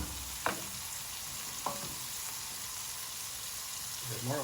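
Shrimps fry in hot oil in a pan for Yang Chow fried rice, giving a steady, fairly quiet sizzle broken by a couple of brief clatters and stirring sounds.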